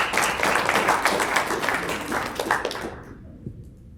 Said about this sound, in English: Give Billy a great round of applause